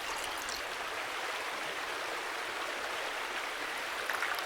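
Steady broadband rush of river water flowing in The Last Plague: Blight, where a lake meets the river in a swamp, a continuous even wash with no voices over it.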